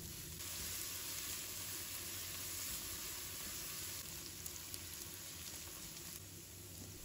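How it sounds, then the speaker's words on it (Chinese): Sliced shiitake mushrooms and carrots stir-fry in a wok with fragrant minced garlic, giving a loud, steady sizzle throughout, broken by a few light clicks and scrapes of the spatula. "炒香后，把香菇、胡萝卜放入锅中，继续翻炒均匀"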